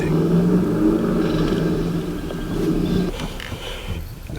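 A 1971 Corvette C3 idles with a deep, steady rumble through its side pipes, loud and close, holding a low throb that swells slightly partway through without any talk over it.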